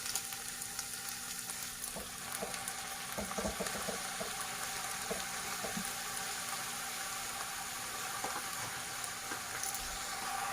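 Fenugreek leaves dropped into ginger garlic paste frying in a pan, giving a steady sizzle and crackle with occasional stirring scrapes, close and unbroken by talk.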